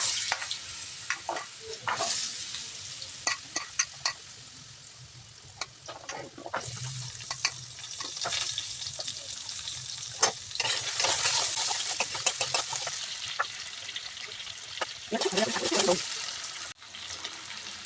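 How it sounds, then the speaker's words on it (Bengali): Sliced ridge gourd and potato frying in oil in a pan for a home-style Bengali curry, a low steady sizzle with occasional stirring scrapes and clinks, close by and moderately quiet. "ভেজে নেবো"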